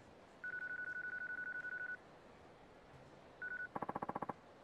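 Telephone tones from the Yakuza 3 Remastered game: a fast run of regular beeps, a short pause, another beep, then a quick burst of dialing tones, all faint and clean with no talking.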